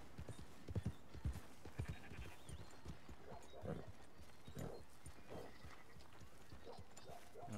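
Horse hooves clip-clop in a Red Dead Redemption 2 gameplay scene as the horse is ridden and brought to a stop, irregular thuds with game ambience and some speech in the background.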